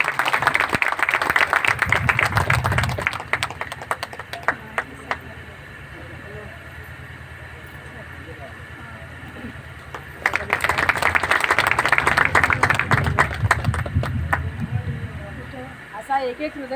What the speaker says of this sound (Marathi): सर्वांनी जोरदार टाळ्या वाजवायचे आहेत